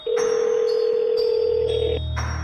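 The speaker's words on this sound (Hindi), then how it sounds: "बाबा सबसे पहले गुल्ली को फोन लगाते हैं।" A loud, steady electronic telephone tone sounds continuously in a cartoon, with higher beeps pulsing on top and a low hum joining near the end.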